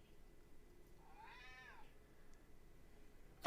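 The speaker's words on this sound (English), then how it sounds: "We've got an angry kitty." An angry cat lets out one drawn-out meow that rises and falls. It is fairly faint against a quiet room hum and is followed by a brief sharp knock.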